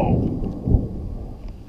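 Thunder from an approaching storm rumbles low and heavy outdoors during a mountain bike challenge, a deep rolling boom that swells briefly and fades, with no speech over it.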